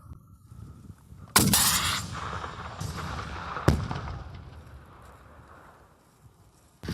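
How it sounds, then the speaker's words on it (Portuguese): RPG anti-tank grenade launcher fired from a prone position, a sharp loud blast followed by a long rushing roar, then a second sharp crack that trails off into fading rumble. "Pronto, deitado, com o carregador para cima, atire o RPG para frente."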